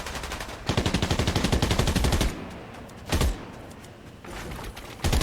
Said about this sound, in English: I see some shooting going on here